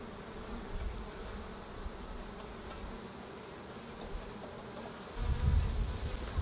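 Honey bees swarming around an opened hive during an orange blossom hive pickup, a dense, continuous buzzing hum with individual bees droning close by, no talk.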